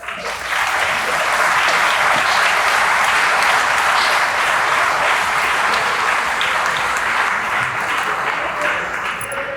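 Sustained audience applause at a commencement ceremony for a prison education program cohort, a dense steady clapping that holds loud and even for nearly ten seconds, with no speech over it.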